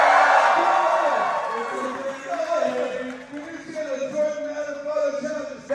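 An audience cheers and whoops loudly, the crowd noise fading and rising again, with some voices and shouts mixed in.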